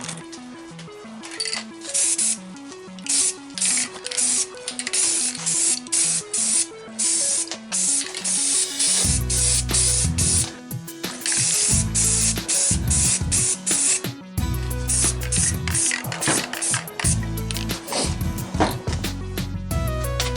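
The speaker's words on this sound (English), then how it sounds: "I put the first light coat of the Rust-Oleum flat black on this thing" Rust-Oleum flat black spray paint applied as a light coat, repeated close hissing bursts of varying length with short gaps, plus low knocking handling noises partway through.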